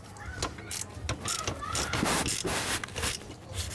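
A ratchet with extensions clicks in quick repeated bursts while removing the last transmission bolt on an R34 Nissan Skyline, loud and close, with some metallic clanks.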